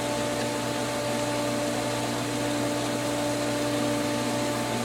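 A pool vacuum runs steadily, pumping water through to the filter, giving a loud, constant hum with a whine on top that holds unchanged from start to finish.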